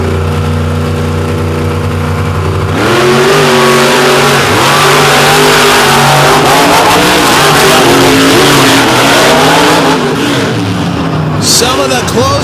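Monster trucks in a drag race final round at West Lebanon roar off the line, a loud idling engine building into sustained revving and acceleration that stays dense and close for the rest of the run.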